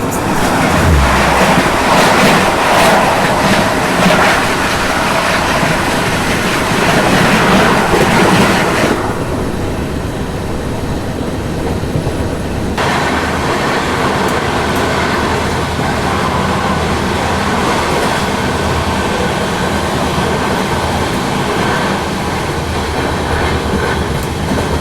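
Banaras–New Delhi Superfast Express running at speed through Tundla without stopping: a steady, loud onboard train roar with rumbling wheels and rail clatter throughout, quieter and duller for a stretch in the middle before building back up.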